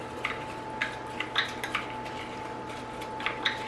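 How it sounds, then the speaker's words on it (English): A spoon stirs a drink mixture in a cup, making a series of light, sharp clinks and taps against the sides at an irregular pace, close and fairly quiet over a faint steady hum. "let's go ahead and give it a little stir"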